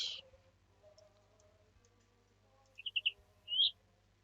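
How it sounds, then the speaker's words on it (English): Quick series of chirpy bird tweets followed by one longer whistle-like call in a Christmas hidden-cats game, faint clicks before them, no talking over it. "Hey, we got a bird noise."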